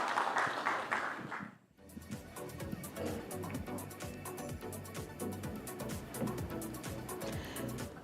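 Audience at a real estate conference breaks into applause after a brief hush, a dense steady clatter of clapping that carries on to the end, with music or voices faintly underneath.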